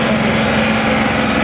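A John Deere 2038R compact tractor engine runs flat out at wide open throttle, a loud, steady, high-pitched drone heard up close without any talk.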